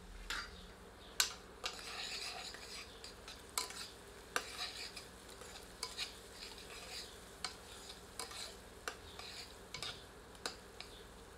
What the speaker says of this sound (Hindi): प्याज थोड़ी देर भूनने के उपरांत हरी मिर्च भी डाल देते हैं।